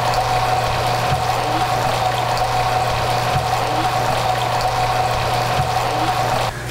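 Freshwater flush water discharging overboard from a CAT C18 marine engine: a continuous, even rush of outflowing water with a steady pump drone and hum beneath it, close and fairly loud, unbroken for the whole stretch and without talk.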